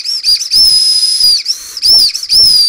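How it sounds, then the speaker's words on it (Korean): Whistle candy blown hard gives loud, shrill, piercing whistle blasts in several bursts separated by brief breaths, close to the listener with no talking. "호루라기 캔디. 따단. 많이들 아시죠? 이거 겁나 시끄러운 캔디."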